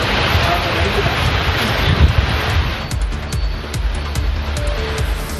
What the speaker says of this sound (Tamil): பலத்த காற்றுடன் மழை வெளுத்து வாங்கியது